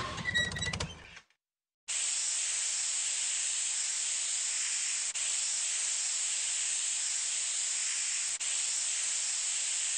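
A brief bit of video game music cuts out, then a steady, loud hiss of a hose spraying water onto a cartoon train engine runs continuously for several seconds.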